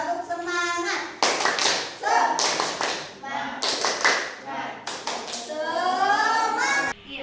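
Several bursts of group clapping in a quick rhythmic pattern, alternating with children's voices chanting and calling out between the claps, a classroom spirit clap in Jakarta.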